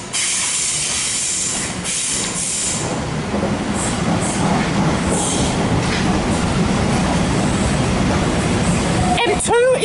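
A Sydney Waratah train at Parramatta station, with hissing air and rolling wheel clatter on the platform, loud and close, overlaid by mixed station noise and a brief squeal near the end.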